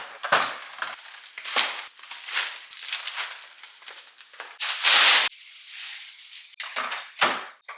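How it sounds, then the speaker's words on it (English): Household trash is taken out: a plastic bag crinkles and rustles in bursts, with clunks and a door-like thud, close and intermittent. "Next, take out the trash."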